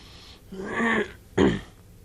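A man on a podcast clears his throat twice in quick succession, a rough gravelly rasp followed by a short sharp hack, close and alone against a quiet room.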